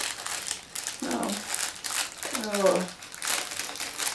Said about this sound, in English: the crinkling you hear is me getting more vine charcoal out of my pack